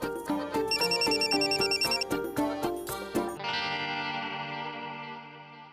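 A mobile phone ringtone plays a bright, rhythmic electronic melody for about three seconds, then ends on a long ringing chord that fades.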